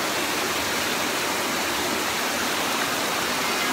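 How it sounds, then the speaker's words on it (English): Steady roar of a waterfall close by, a dense unbroken rush of falling water with no voices over it. "So yeah, this is the waterfall, guys."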